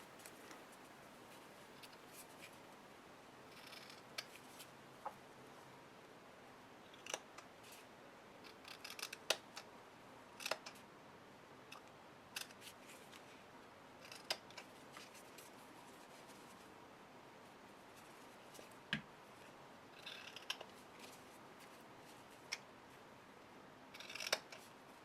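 Scissors cutting paper album binding at varied angles, with faint, quiet snips scattered irregularly over a soft background.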